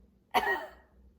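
A single short cough, fairly close and moderately loud, with a quick sharp onset and a breathy tail fading over about half a second.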